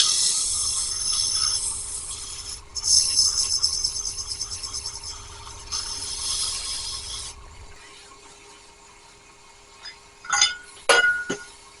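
Quick hand sanding of a small fishing reel part: raspy scratching strokes in bursts for several seconds, then quiet, and a few sharp light clinks near the end.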